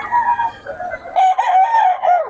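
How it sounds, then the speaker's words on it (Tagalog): A rooster crows loudly and close by at a market, a drawn-out strained call with a second rising phrase, standing alone. "konti lang manok natin."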